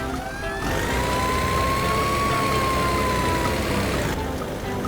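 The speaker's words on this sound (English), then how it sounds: "Fire truck." Cartoon fire truck siren rising and holding a steady wailing tone over a dense musical backing, loud and continuous for about four seconds.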